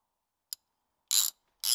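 A ratchet winding in bolts on a Land Rover Series 2 swivel housing makes a single sharp click, then two short bursts of close, crisp ratcheting separated by silence.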